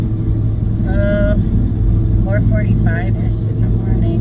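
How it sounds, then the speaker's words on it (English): A loud car engine drones steadily at low pitch while driving, a constant rumble under someone talking throughout. "Sorry if it's a little loud. My car's loud"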